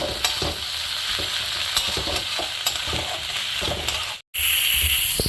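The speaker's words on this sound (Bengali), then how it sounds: "মশলাগুলো একটু ভালো করে কষিয়ে নিতে হবে" Spice paste with ginger paste fries hard over high heat in a pan while cooking fish head with bottle gourd: a loud, continuous sizzle broken by repeated scraping stir strokes, cutting out briefly near the end before resuming.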